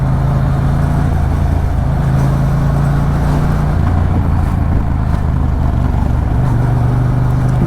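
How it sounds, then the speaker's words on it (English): A car's exhaust rumbles steadily while driving, a loud continuous low drone with slight shifts in engine pitch as the speed changes and no talking over it. "I hope y'all can hear the exhaust pretty well."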